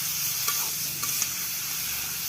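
Chicken pieces dropped into hot oil with tomato in a pan for a curry set off a continuous bright sizzle, with a few small clicks of a utensil, close by and without talk.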